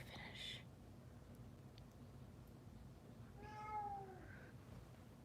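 A pet cat meows twice indoors, one short cry near the start and a longer drawn-out meow about three seconds later, over a quiet room hum.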